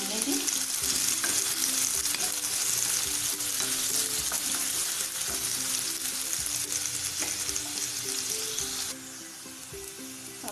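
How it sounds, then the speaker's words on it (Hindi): Onions sizzle and fry in hot oil in a pan for a mushroom pancake, a steady close crackling hiss with occasional stirring scrapes, dropping slightly in level near the end. "ऑयल गर्म हो चुका है, इसमें हम प्याज डाल देंगे। इसको थोड़ा थोड़ा हम भून लेंगे।"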